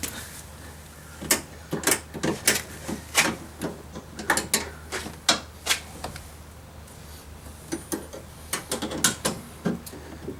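Repeated metallic clicks and ratcheting scrapes from a 7/16 wrench loosening the two exterior door handle bolts inside the door of a 2001-2005 Ford Explorer, irregular bursts over a steady low hum, close up with no talking.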